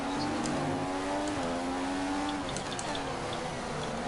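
Race car engine drones steadily in a racing video game, its pitch shifting as a rival car overtakes, a continuous loud whine with no talk.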